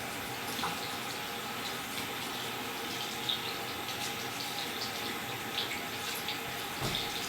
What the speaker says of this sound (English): And we're going to rinse off.